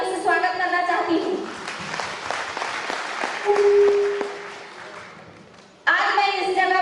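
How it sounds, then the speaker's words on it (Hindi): Audience applause at a business celebration event, a moderate wash of clapping in a hall between stretches of someone speaking, swelling briefly then fading out before her voice returns. "मैं अपने माता पिता के लिए भी एक बार जोरदार तालियों से स्वागत करना चाहती हूँ।"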